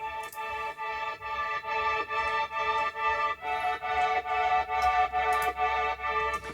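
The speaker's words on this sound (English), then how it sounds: "Then we have the violin Mellotron." A violin Mellotron replica sustains harmonic chords, steady layered string tones pulsing gently in a repeating rhythm, moderately loud and alone without talk.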